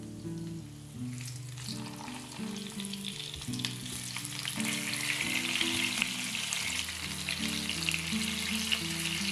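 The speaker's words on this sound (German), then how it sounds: "Öl erhitzen. Darin fügen wir Koriandersamen, Kreuzkümmel, Tomaten und Salz hinzu." Coriander seeds, cumin, tomatoes and salt fry in hot sunflower oil with a steady, fairly loud sizzle that thickens partway through, over soft tonal background music and with no talking.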